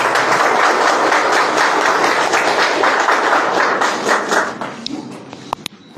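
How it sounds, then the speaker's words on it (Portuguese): An audience at a Spiritist lecture breaks into dense, sustained applause of many hands, loud and steady for several seconds before thinning out into a few scattered claps. "Acho que merece um aplauso,"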